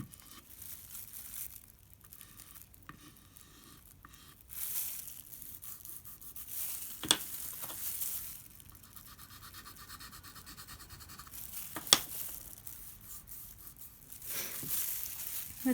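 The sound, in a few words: chalk rubbing over lettering on a chalkboard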